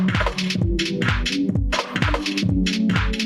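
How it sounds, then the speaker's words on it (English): A Teenage Engineering EP-133 sampler plays a rhythmic looping pattern of punchy bass notes and hits, with a reverb effect adding washy tails after each beat, loud and steady with no talk. "Okay, there I hear the reverb"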